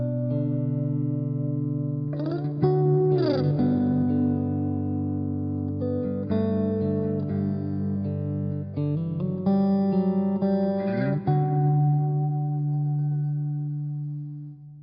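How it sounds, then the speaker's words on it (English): An instrument played through a pedalboard with the reverb on its hall setting rings out in sustained, washy chords. Several new strums land around 2–3 s and again near 11 s, each leaving a long, spacious tail that fades toward the end. "I love the hall setting on here"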